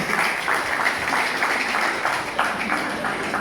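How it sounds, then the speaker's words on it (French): An audience applauding at a press event in Martinique: a steady, fairly close patter of many hands clapping that holds throughout, with faint rhythmic surges in the clapping. "Sous vos applaudissements, s'il vous plaît."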